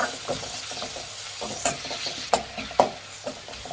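Onions and tomatoes are stirred in a frying pan for a drumstick fry, with steady sizzling under a run of sharp utensil scrapes and clicks against the pan, close and fairly loud.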